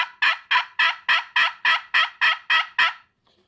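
A friction turkey call is worked into a long yelp run of about ten evenly spaced, sharp raspy notes in a quick steady rhythm, close and clear with no talk, ending in silence. The call imitates a wild turkey hen.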